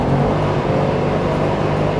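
A Bajaj Qute small car's engine pulls steadily after a shift into fifth gear, giving a continuous loud drone with road noise and a low, even hum throughout, no talking.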